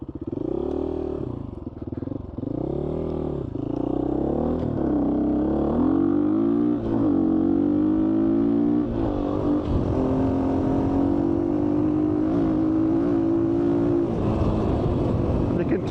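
A GPX FSE250e motorcycle ridden on a road, its engine droning and climbing through repeated revs and gear changes, loud and close with wind rush, while a rider talks over it.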